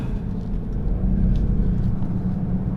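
A 2018 Kia Stinger GT2 on the road, steady low engine and drivetrain rumble from inside the car with tire noise, no clear shift or rev change.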